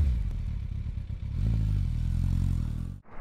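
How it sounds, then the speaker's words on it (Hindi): A Kawasaki Ninja 300 engine heard up close, a deep, loud, steady mechanical rumble with some clatter, holding for about three seconds before abruptly cutting off. "थोड़ा सा इसको रेव किया जाए और देखा जाए क्या साउंड दे रहा है"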